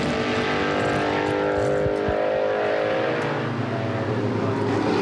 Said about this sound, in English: This is the Ford engine Riley and Scott Mark III